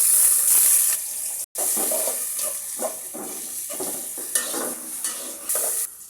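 Hot oil sizzling and crackling steadily in a pan while beef vuna cooks, a loud continuous fry with a brief cut near the start, close and without talk.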